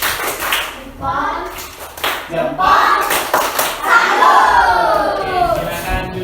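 A classroom of children performs the 'tepuk salut' chant, rhythmic bursts of group clapping mixed with loud, excited shouted voices, close and energetic throughout.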